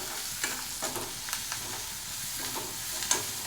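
Small onions and curry leaves fry in a pan for a mutton liver dish in a small kitchen, giving a steady low sizzle broken by several soft stirring scrapes, close and fairly quiet with no talking.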